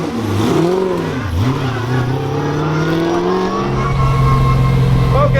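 Corvette C6 drift car engine revving up and down in loud sweeping pitches, then settling into a steady high drone, heard close from inside the car.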